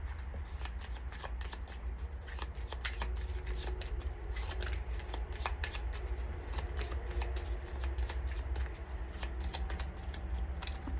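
Tarot cards being shuffled continuously for several seconds, a quiet, close, steady riffling with rapid papery clicks.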